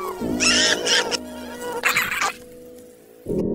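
Flies buzz around a beetle in close, loud bursts of whining wingbeats that start and stop several times, separated by short quieter gaps.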